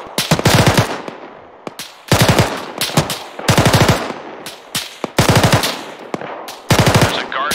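Bursts of rapid automatic gunfire in ArmA 3, a military shooter game, come in repeated loud volleys with single shots and short gaps between them, close and harsh.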